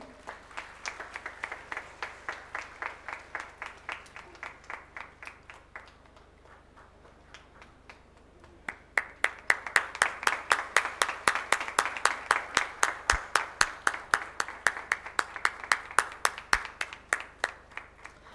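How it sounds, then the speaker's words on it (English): Audience applause at an engineering college inauguration ceremony for first-year B.E./B.Tech. students, scattered moderate clapping that swells halfway through into a louder, denser round, with no talk over it. "Please, guys, put your hands together for them."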